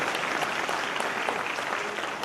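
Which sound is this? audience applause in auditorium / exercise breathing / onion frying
audience applause in auditorium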